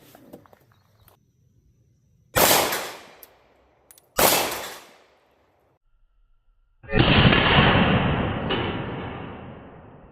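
A German 9mm Luger P08 pistol fires outdoors, two loud sharp shots a couple of seconds apart with decaying echoes, then after a pause a longer, louder blast that trails off slowly.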